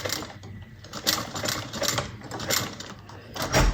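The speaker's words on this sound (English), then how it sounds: "I'm just going to go ahead and sew across the short edge." Close, fairly quiet whir of a sewing machine stitching across the short edge of a fabric bucket bag, in short rhythmic bursts with brief pauses.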